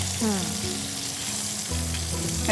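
Prawns frying with egg in a hot pan give a steady, loud, close sizzle, with brief scraping as the mixture is stirred.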